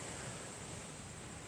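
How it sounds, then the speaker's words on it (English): Gentle waves wash onto the shore of Koh Samui beach in Thailand, a soft, steady surf hiss heard faintly from a distance with a little wind and no talk. "as you can hear just the waves crashing onto the shore ever so slightly"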